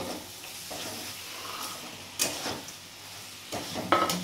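Morola fish fries in spice masala whose oil has separated in a pan, giving a steady sizzle with several sharp stirring scrapes and clatters of a utensil against the pan, the loudest near the end.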